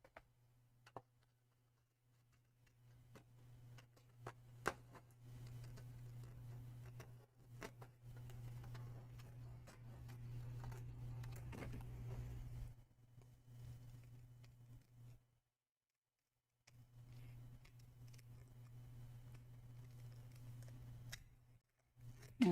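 Scissors cut a card piece with soft, faint snips and ticks over a low steady hum, pausing briefly before the cutting resumes.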